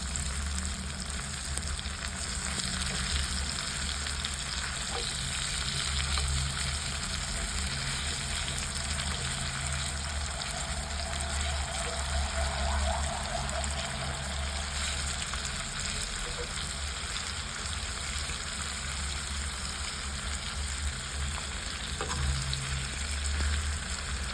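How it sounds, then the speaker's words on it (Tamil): Boneless kannadi fish pieces fry in hot oil in a pan, giving a loud, continuous close-up sizzle that holds steady throughout with faint crackles and no talking. "மீனை வந்து பொரிச்சு எடுத்துட்டோம்."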